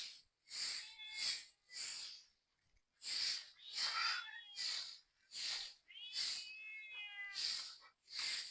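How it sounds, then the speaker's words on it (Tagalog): Repeated cat meows, loud and close, coming in a steady series of short cries with brief gaps, some drawn out and wavering. "Miyaw ka na agad ng miyaw."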